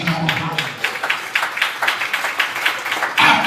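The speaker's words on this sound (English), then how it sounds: "Somebody give God a hand clap of praise." Church congregation clapping hands in praise: a steady run of rhythmic, fairly even claps at a brisk pace, ending in a louder swell of applause.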